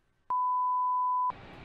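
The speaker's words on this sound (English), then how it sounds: "Beep, beep, beep, beep." An A-10C cockpit warning tone in the DCS flight simulator game, heard as one steady, loud electronic beep held for about a second, then cut off as broad game noise takes over.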